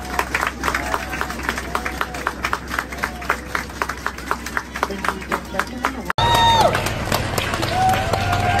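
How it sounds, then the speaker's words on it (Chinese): A crowd claps in a steady, evenly spaced rhythm to honour Taiwan's 2024 Olympic athletes at their homecoming; the clapping runs for about six seconds before an abrupt cut to busier sound with voices. "请大家给予所有中华队的英雄们最热情的掌声"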